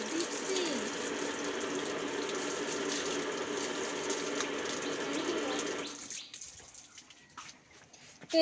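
A tap runs steadily while cut vegetables are washed for cooking, giving a soft, constant rush of water that stops near the end, leaving faint clinks and handling noises.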